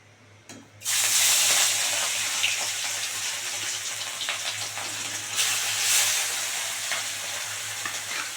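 Rohu fish pieces dropped into hot white oil burst into a loud, close sizzle after a brief quiet start, frying steadily with a second surge as another piece goes in.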